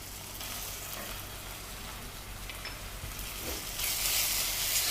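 Ginger garlic paste sizzles in a pan with browned onions as the stirring goes on, a steady close frying crackle that grows louder toward the end.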